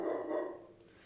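A dog gives a single bark or short yelp up close, fading quickly into a quiet room.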